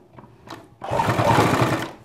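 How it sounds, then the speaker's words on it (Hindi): A sewing machine stitches along the edge of a half collar in a short, close whirring burst after a few faint ticks, steady and alone without talk. "यहाँ पे हम किनारे पे इसके सिलाई चलाएंगे"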